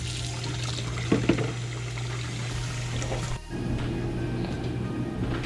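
Jars are washed in a basin of hot soapy water while preparing for pickled okra canning, giving continuous sloshing and splashing with a couple of sharper clinks near the start and a brief lull partway through, with no one talking.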